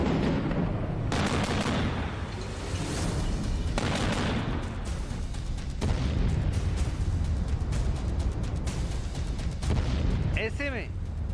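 Heavy Hellfire missile explosions and rapid gunfire-like blasts boom continuously, loud and dense throughout, with a whistling streak near the end.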